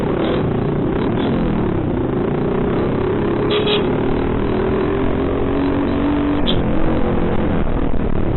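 A Suzuki Avenis 125 scooter-style motorcycle with small wheels hums along a road, its engine droning steadily and close on board with mild revving, recorded through a muffled action camera microphone.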